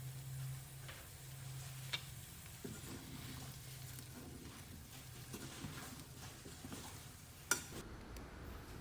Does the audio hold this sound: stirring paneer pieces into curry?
yes